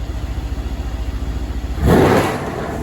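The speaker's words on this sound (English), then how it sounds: "Oh, the turbo sound. You can hear it." Mercedes-Benz CLS63 S AMG engine idling with a pulsing burble, then revving sharply in Sport Plus mode, turbo whoosh swelling near and loud before settling back.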